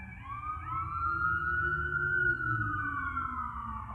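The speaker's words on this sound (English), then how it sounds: "That is the sound of sirens" Emergency vehicle sirens wail at night around 11:30 p.m., a steady rising and falling tone close by and loud, sustained throughout with a low rumble of traffic beneath.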